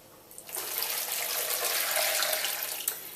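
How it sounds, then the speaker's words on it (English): Freshly boiled water from a kettle pours steadily into a bowl of raw spicy parsnip soup, a close, continuous splashing stream that starts after a brief pause and runs to the end. "to which we are going to add 400 millilitres of boiled water from the kettle"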